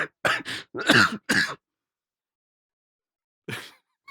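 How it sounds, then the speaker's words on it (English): A single harsh cough bursts out after a quick series of throaty coughs, then silence, and one more short cough near the end. "now that I've got the first cough out of the way"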